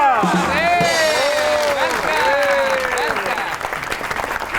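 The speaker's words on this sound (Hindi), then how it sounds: "आपकी बहुत सी तालियों में फिल्म स्टार मीरा" A studio audience on a Pakistani comedy talk show claps and cheers loudly and continuously while a host's amplified voice carries over the applause.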